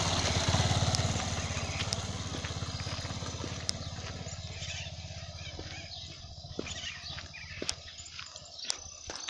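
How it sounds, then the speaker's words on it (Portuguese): A motorcycle engine idles then winds down and settles, its rumble fading as it comes to a stop, with scattered clicks and ticks. "Agora a gente vai fazer a parada da moto"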